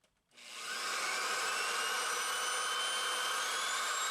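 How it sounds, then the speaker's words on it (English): A long masonry bit drills a pilot hole through brick. The drill starts after a brief quiet moment and then holds a loud, steady high-pitched whine, close by and with no talking. "I'm going to use a long masonry bit to create a pilot hole for my masonry hole saw to follow."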